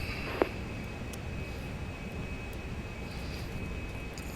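Aircraft in a flight simulator game just after landing, taxiing toward an executive air center: a steady engine hum and whine with a single brief click near the start, no talking.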